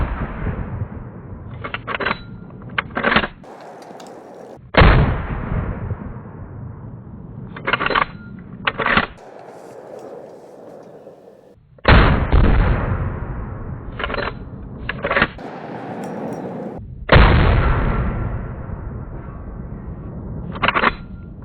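Loud .44 Magnum gunshots from a Taylor's & Co. Alaskan revolver fired at bottles and targets on an outdoor range, a series of sharp cracks, some in quick pairs, each trailing a long booming echo.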